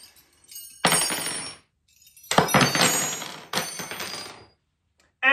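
Metal Allen keys from IKEA furniture clink together in three bursts of jangling, rattling metal, each lasting about a second, with short quiet gaps between them. The sound is close and fairly loud.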